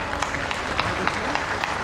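A crowd at a public function for the Sonamarg Tunnel inauguration applauds the Prime Minister with quick scattered claps, steady and moderately loud, over a faint background murmur.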